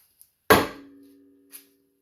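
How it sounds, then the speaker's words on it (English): A small hammer strikes once, sharp and close, tapping a BB into a custom spinner, leaving a faint ringing tail, followed by a lighter knock. "A little hammer."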